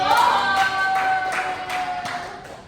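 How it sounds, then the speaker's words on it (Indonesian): A classroom claps for a group of students, a short burst of rhythmic clapping in a few distinct waves, with a sustained tone running underneath and murmuring alongside. "Tepuk tangan buat kelompok 1"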